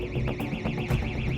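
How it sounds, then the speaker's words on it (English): A gas detector alarm on a sewer control box sounds a loud, continuous warbling electronic tone that rises and falls in a steady rapid cycle. "A control box sets off an alarm after detecting the presence of abnormal gas."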